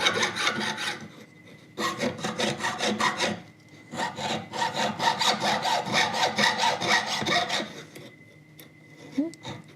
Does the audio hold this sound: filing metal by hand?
yes